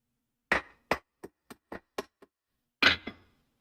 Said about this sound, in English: I am hammering.